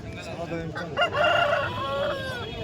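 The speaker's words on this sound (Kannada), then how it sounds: "ಇಲ್ಲೊಂದು ಹುಂಜ ಇದೆ" A rooster crows once at a country chicken market in Chintamani, a near, strained, harmonic call rising through the middle of the stretch over a low crowd murmur.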